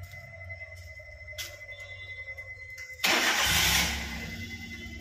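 A car's engine starts during a driving licence test on a practice ground: a quiet idle-like hum with faint tones gives way midway to a sudden loud burst of cranking and catching, then a settling rumble.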